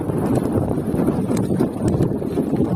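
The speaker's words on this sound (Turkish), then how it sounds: "nasıl bir rüzgardır şimdi ya" Strong wind batters a microphone during a bicycle tour on rural village roads in Turkey, a loud continuous low rumble with gusty buffeting and no voices.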